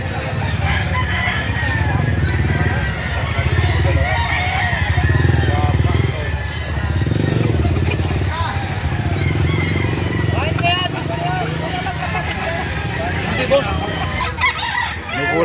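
Gamefowl roosters crow repeatedly and cluck at a busy chicken market in Lipa City, Batangas, with people talking throughout and a motorcycle passing now and then.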